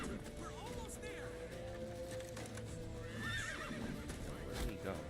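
In the Witcher 3 video game, a horse whinnies and its hooves clip-clop steadily, a rising neigh standing out midway, all heard under continuous talking.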